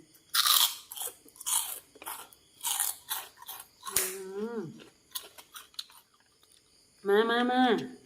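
Fried beef skin cracklings are crunched and chewed up close, eaten with fermented fish sauce rice noodles and leadtree leaves, in a series of sharp, loud crackling bites, with brief vocal sounds between them.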